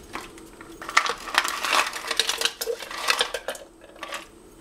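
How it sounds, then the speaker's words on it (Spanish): Ice cubes clinking and rattling as they drop into a container of agua fresca, a busy cluster of bright clatters with a few louder knocks, no talking. "Voy a estar poniendo hielo."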